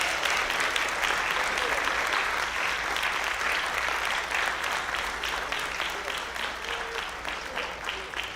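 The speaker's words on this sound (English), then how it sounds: "Let's give them a round of applause." An audience at an indoor community event applauds, a steady, dense wash of clapping that holds for several seconds and tapers slightly toward the end.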